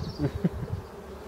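Honeybees bustle in front of a beehive entrance, giving off a close, low buzzing hum with a few brief louder swells over a short stretch.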